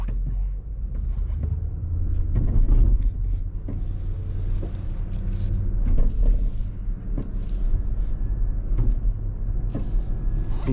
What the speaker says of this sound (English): You can hear the stability control relay flickering there